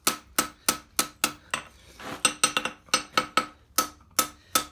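Farrier's hammer striking a concave front horseshoe on an anvil in a steady series of sharp, ringing metallic blows, with a brief pause partway before the rhythm resumes.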